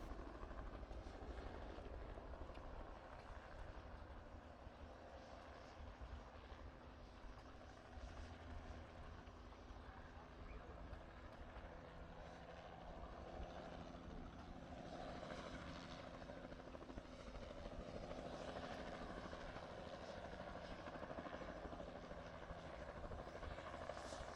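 A helicopter lands at an outdoor steam and country show, its steady rotor and engine roar filling the air continuously, loud and close, with a broad rumbling wash and no voices.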